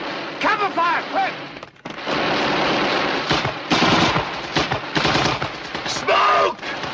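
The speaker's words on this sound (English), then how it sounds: "Take cover! Cover fire, quick!" Machine gun cover fire rattles in sustained bursts through a firefight, with close shouted voices breaking in over the gunfire.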